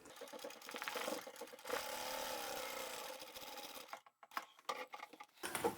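A sewing machine runs fast while stitching the outer fabric of a vinyl upholstery bag. The motor whirs steadily at close range, then stops and gives way to short bursts and handling noises near the end.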